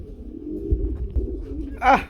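Low, soft pigeon coos murmur close by at a pigeon farm, ending in a brief higher fluttery call or wing sound.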